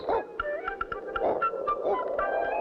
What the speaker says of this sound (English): That's Otto barking. There must be something wrong.